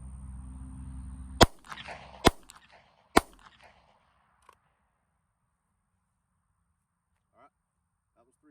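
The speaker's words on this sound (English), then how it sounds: "that was 3 shots" Three sharp handgun shots fired during a police qualification drill at long range outdoors, evenly spaced about a second apart and loud, followed by quiet with faint distant sounds.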